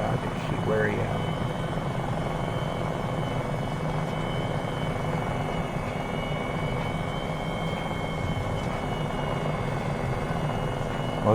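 An MD 500E helicopter in flight produces a steady, loud rotor and engine drone heard from inside the cabin, constant throughout with a faint tonal whine on top, and a voice talks over it at times.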